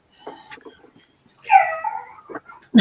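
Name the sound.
dog whimpering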